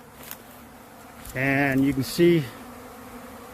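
A swarm of killer bees gathers and clusters in a tree outdoors, their steady buzzing drone carrying under a voice as he speaks briefly.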